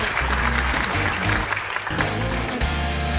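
Audience applause for a singer at a Chinese stand-up comedy open-mic show, a steady dense clapping from a crowd lasting about three seconds, with a brief dip midway and faint voices mixed in.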